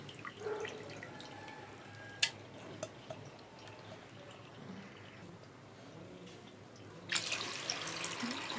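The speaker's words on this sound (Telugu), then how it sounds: "కొంచెం నీళ్ళు కూడా వేస్తానండి." Water is poured into a pot of pulasa fish curry: after a quiet stretch with faint drips and ticks, a brief, fairly loud splashing gush begins near the end.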